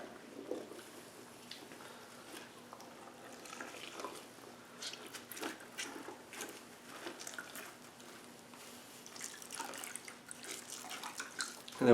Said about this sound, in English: I'll just kind of squeeze it out like this, all back into the pail.